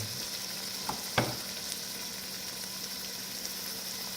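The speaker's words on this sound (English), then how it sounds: "And now I'll just mix it in. Let it cook down for a little bit" Scallion and scotch bonnet pepper fry in a pan, a soft steady sizzle running throughout, broken by a couple of quick scraping stirs near the start and faint clinks later, heard close with no voices.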